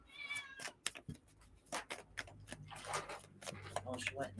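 Pet cats meow now and then indoors, their short cries mixed in with a woman's chatter and household clatter.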